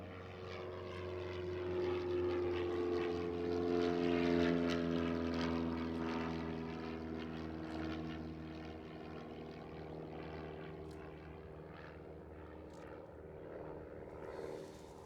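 A propeller airplane aborts its landing and accelerates to climb out again, a steady droning engine hum at moderate distance that swells and then slowly fades, with no voices.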